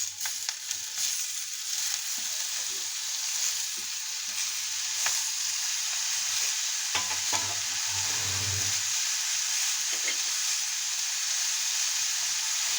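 Chopped tomato goes into hot spices (red and black chili powder) frying in a pan for spicy tomato chutney. A steady, close sizzle runs throughout, with the scrape of stirring layered over it and a brief louder flare of frying partway through.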